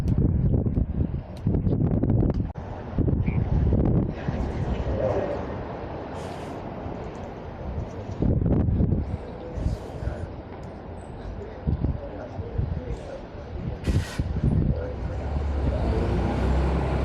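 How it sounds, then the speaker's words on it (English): A low-floor Dennis Dart bus engine rumbles past at close range, a low throaty drone rising and fading, with wind buffeting the microphone and traffic noise around it. "Listen to that engine. That is lovely."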